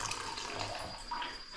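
Water running from a bathroom sink tap into the basin, a steady soft rushing flow at low level, continuous and close, with no talking.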